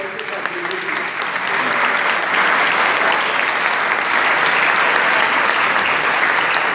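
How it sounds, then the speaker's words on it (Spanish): A congregation at a church service applauds the Lord, a dense sustained clapping that builds and holds loud throughout, with a voice over the start. "¿Cuánto le pueden dar un aplauso al Señor por este sacrificio?"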